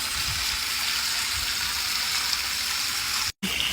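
A waterfall pours steadily into an above-ground pool, a continuous close splashing rush that holds even throughout, broken only by a brief cutout near the end.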